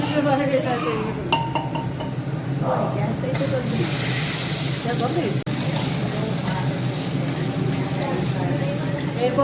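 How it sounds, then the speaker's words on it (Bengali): Saag greens fry in a pan in a home kitchen, hissing as a loud, steady sizzle alongside sharp clinks of metal utensils against the cookware, while a voice talks over the cooking. "শাক ভাজছি"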